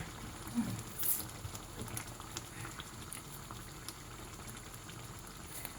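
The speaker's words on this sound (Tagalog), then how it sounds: "hayaan na natin kumulo siya" Lasagna sauce with sugar, salt and pepper bubbling in a pot, a soft, continuous low simmer with faint pops and a couple of small clinks early on.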